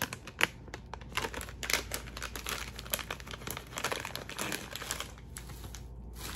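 Crinkly plastic candy packaging being handled and opened up close, a dense run of sharp crackles and rustles that keeps going throughout with no talk.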